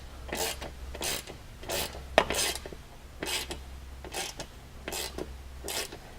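A hand ratchet or wrench snugs down bolts during a Honda Talon install, giving about eight rhythmic rasping strokes, each a short close scrape, with a sharp metallic click midway.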